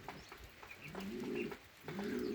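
Pigeons coo in low, rolling bursts inside a pigeon loft, two main phrases close by, with faint chirps and light rustling in the background.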